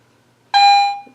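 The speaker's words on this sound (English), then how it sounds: "As you can see, it's ringing in nice and high." A metal detector rings in on a target with one loud, high, steady electronic tone that starts abruptly, holds for about half a second and then fades, over faint background hum.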